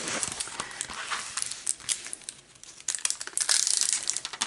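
A cellophane cover crinkles in close, irregular bursts of crackling and rustling. Handling grows louder and denser toward the end.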